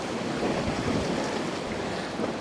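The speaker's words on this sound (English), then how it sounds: "The wind's still gusting." Gusting wind buffets the microphone outdoors during winter bass fishing, a continuous loud broadband roar with slight surges, no voices present.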